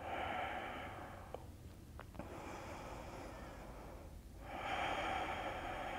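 Slow, deep breathing during a vinyasa yoga flow: long airy exhales and inhales rise and fall close by, with a quieter pause in between and no talking.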